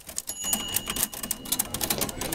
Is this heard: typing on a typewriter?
yes